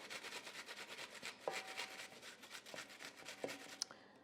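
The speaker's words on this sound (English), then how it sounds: "I'm grating my onions." Yellow onions are grated by hand in a kitchen, giving a soft, continuous scraping rasp with a few faint clicks, quiet and without talk.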